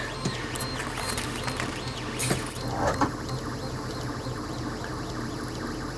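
A dual-colour 3D printer feeding two rolls of filament through tubes whirs and whines steadily, its stepper motors chirping in repeating sweeping tones with occasional clicks and creaks, close and continuous.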